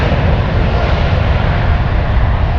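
A Lufthansa Boeing 787-9 Dreamliner rolls for takeoff at Frankfurt airport, a loud, steady broadband jet roar filling the whole stretch without pause.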